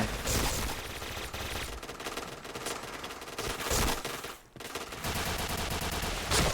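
Sustained automatic gunfire in a first-person shooter video game, a dense unbroken stream of shots with one brief pause, loud and close.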